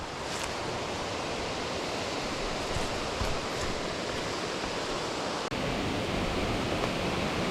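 Steady, full rushing of a nearby creek near Rainbow Falls, Beechmont, in the Gold Coast Hinterland, after recent rain; continuous and fairly loud with no voices or breaks.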